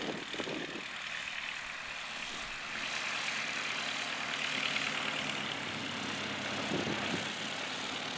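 de Havilland Tiger Moth biplane engine at full throttle on takeoff, a continuous loud droning roar that swells slightly as the plane accelerates.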